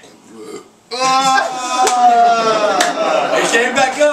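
A long, loud burp of about three seconds, croaky and strained, starting abruptly and rolling on with a rough, voiced texture; it may be a person imitating a burp with their voice.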